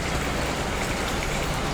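Rain falls on a wet day in Hong Kong, a dense, steady hiss of drops on surfaces, close and unbroken for a brief moment.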